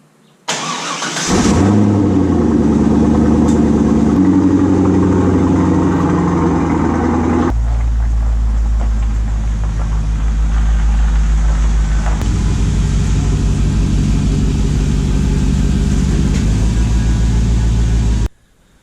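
A street truck's engine starts with a sharp burst, then runs at a loud, steady idle with a deep low rumble, shifting in pitch once or twice as it is moved into the garage.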